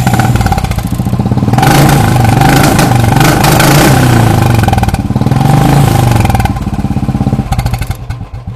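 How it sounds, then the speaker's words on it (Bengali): A used Royal Enfield Bullet motorcycle engine runs loud and close with a deep rhythmic thump, revving up twice with brief dips between. "গাড়িটার সাউন্ডটা তো অবশ্যই আমরা শুনবো, আমাদের বন্ধুদেরকে শোনাবো, কেন বুলেট বলে কথা"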